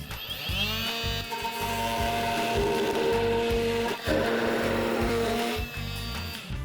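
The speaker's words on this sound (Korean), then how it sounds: "일단 목재부터 한번 절단을 해볼게요." A battery-powered multi-cutter cuts through wood with a loud, steady buzzing drone and a rapid oscillating rattle, nearly continuous with a short dip partway through.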